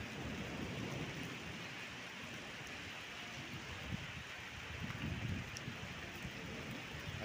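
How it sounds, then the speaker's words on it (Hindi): Steady rain falling on a road in Dhanbad, India, a dense even hiss that runs the whole time with faint low rumbles underneath, close and continuous with no talking. "अभी बारिश हो रहा है, मौसम ठंडा कर दिया है, अच्छा लग रहा है।"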